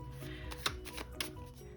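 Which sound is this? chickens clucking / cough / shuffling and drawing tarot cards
shuffling and drawing tarot cards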